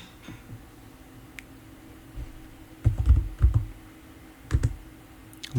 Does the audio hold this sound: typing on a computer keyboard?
yes